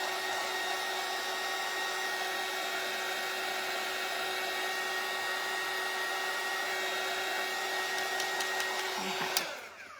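A hair dryer blowing steadily on wet red paint on a hand-painted flag, a loud, even whir with a constant pitch that holds for nearly the whole stretch, then cuts off abruptly just before the end.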